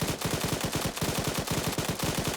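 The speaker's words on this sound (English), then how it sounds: "maybe put some suppressing fire downrange" Sustained automatic suppressing fire in the video game Arma 3, rapid evenly spaced shots in a dense continuous burst, loud and close, with no talk.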